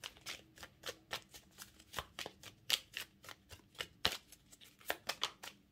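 Tarot and oracle cards are shuffled by hand in a steady run of soft, close riffling clicks and slaps that continues throughout.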